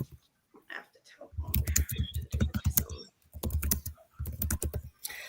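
Rapid clattering keystrokes on a computer keyboard come in bursts close to the mic, mixed with a person talking over them.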